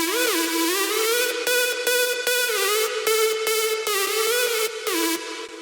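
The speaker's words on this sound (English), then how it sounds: "we have this counter melody that plays kind of different notes of the chords" A bright synth counter melody in a dance track plays a series of short, staccato notes across the chords in a bouncy rhythm, steady and clear with no voices.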